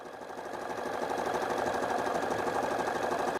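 A sewing machine stitches a yellow fabric piece onto an apron, producing a quiet, rapid mechanical whir of needle strokes that runs steadily for a few seconds, then stops.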